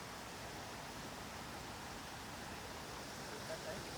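Water flows steadily under a small footbridge at Karnala Bird Sanctuary near Panvel, a constant soft rushing that stays even throughout.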